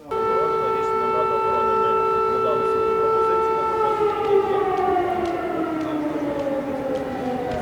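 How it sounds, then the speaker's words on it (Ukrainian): A civil defense air raid siren under test in Chernivtsi, Bukovina, wails steadily and loudly with layered tones that begin to slide downward as it winds down, with no voices. "У Чернівцях сигнал повітряної тривоги охоплює усю територію"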